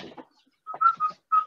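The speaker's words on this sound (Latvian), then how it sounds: "Kas tur svilpo mums?" Someone whistles during an online video meeting: a few short, clear tonal whistle notes in quick succession, heard alone after a brief burst of muffled sound.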